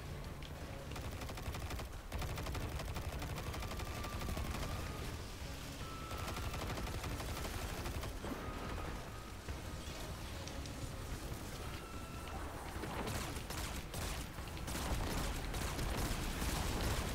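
Sustained rapid gunfire from a Destiny 2 boss fight, with bursts of automatic shooting and heavy impacts running continuously at steady loudness, layered with game effects and occasional tonal cues.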